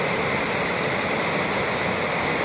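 Floodwater from a swollen village river rushes past in a constant, loud, broadband roar with no break and no voices.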